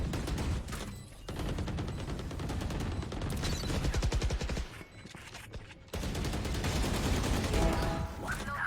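Rapid bursts of gunfire from the tactical shooter Valorant during a post-plant round on the Ascent map, loud and dense with rattling automatic fire, short gaps between volleys, and no talk over it.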